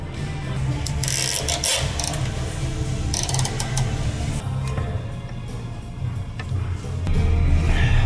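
A ratchet tightens bolts on the AC compressor of a VW Atlas, a steady mechanical clicking and whirring that runs close and continuous throughout.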